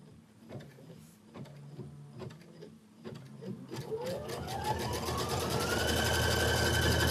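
An embroidery sewing machine stitches steadily, its motor whirring up into a fast, continuous buzz after a few slower mechanical clicks at the start, close and alone.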